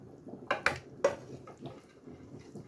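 Homemade cornmeal halwa being dished out into a bowl: a few sharp clinks of a spoon against the dish, quiet scraping and soft handling between them, close and without talk.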